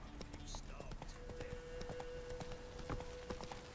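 Roach, a horse in The Witcher 3, is galloping with a steady, rapid clip-clop of hooves at moderate loudness. Other game sounds carry on underneath.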